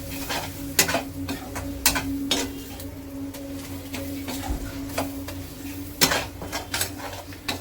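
Spice mixture stirred in a cooking pan, with scraping clicks of a spoon against the metal at an irregular pace over a low sizzle, close up.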